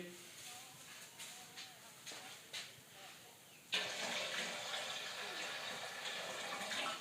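Water is poured into a container for making bleach, a loud steady rushing splash that begins abruptly partway through. It follows a quieter stretch of light knocks and handling noises.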